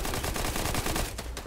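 Fortnite gunfire comes in a rapid, continuous burst of loud shots during a competitive FNCS match. It is dense and close, then tapers off near the end.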